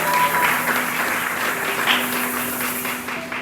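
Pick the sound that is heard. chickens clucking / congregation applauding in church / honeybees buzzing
congregation applauding in church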